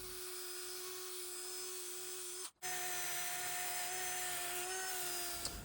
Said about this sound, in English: we're just going to go around there with a wire wheel and put a dab of grease inside there.